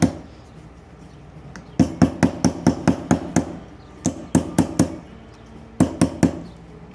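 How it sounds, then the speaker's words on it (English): Metal from an 1887 Singer VS-2 sewing machine is struck flat against a piece of wood, with sharp hammer blows landing in quick rhythmic bursts of five to seven hits, separated by short pauses, loud and close. "hammer it straight down"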